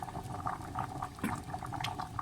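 Rice boiling in a pot of water on the stove for Breyani, a steady low bubbling and crackle with a few brief louder pops, close and continuous with no talking.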